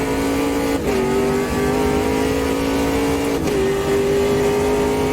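A Ginetta G58 race car engine in the Automobilista 2 racing game drones loud and steady at high revs, with two quick dips in pitch as it shifts gears through a tight hairpin section.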